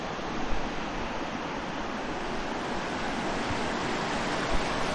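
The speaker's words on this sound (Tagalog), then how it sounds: "Yan po yung ilog po, mga bata." A mountain-fed river flows steadily outdoors in summer, a broad continuous rushing wash of water, loud and close, with no voices.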